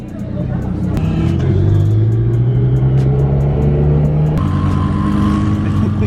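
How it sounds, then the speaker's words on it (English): A Lamborghini Huracan engine rumbles loudly up close on a street, its deep tone rising and settling as it rolls in and idles, with a brief rev partway through. "we got this Huracan that just pulled up"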